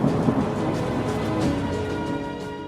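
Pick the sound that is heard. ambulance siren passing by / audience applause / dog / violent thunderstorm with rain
violent thunderstorm with rain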